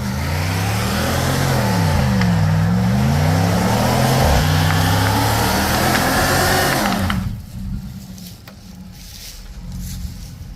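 A vehicle doing a burnout on new tires, its engine revving hard with rising and falling pitch sweeps and tire roar for about seven seconds, then cutting back to a rough idle with scattered knocks.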